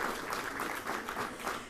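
A crowd applauds, dense steady clapping that stays even and moderately loud throughout, with no voices standing out.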